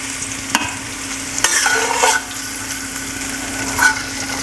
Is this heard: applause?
no